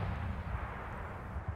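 Mortar shells bursting in a military video game, a deep continuous rumbling roar of distant explosions that rolls on without break, with no talk over it.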